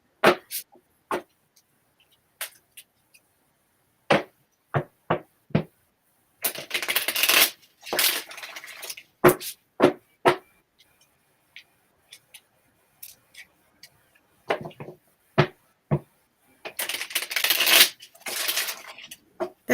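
Stiff tarot cards riffle and snap in quick bursts, with longer shuffling runs between sharp single clicks, close up in an otherwise quiet room.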